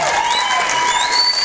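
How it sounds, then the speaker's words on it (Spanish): Crowd applause with cheering and whistling at a university cultural festival belly dance show, loud and continuous over a short stretch, with shrill voices riding on top. "Vamos a dar un aplauso muy fuerte a este excelente"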